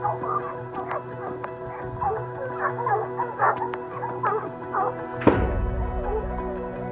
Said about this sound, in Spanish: A lo lejos comienzan las primeras ladras.